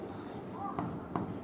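Chalk or marker writing by hand on a classroom board during a Class 10 maths lesson, soft scratchy strokes with a couple of light taps, faint under room noise.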